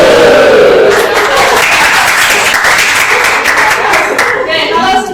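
A classroom of students performing a clap salute, loud rapid clapping in unison from a nearby group, filling the whole stretch with crowd noise and voices mixed in.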